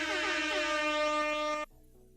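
An air horn blares in one sustained, steady blast of about a second and a half, then cuts off abruptly, played back quietly at low volume.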